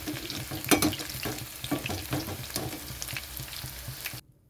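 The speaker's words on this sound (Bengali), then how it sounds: "ভাজাটা হয়ে গেছে, ভাজাটা এখন নামিয়ে নিচ্ছি।" Prawn pakoras frying in hot oil give a steady, dense sizzle with crackling pops throughout, fairly close, before cutting off abruptly at the end.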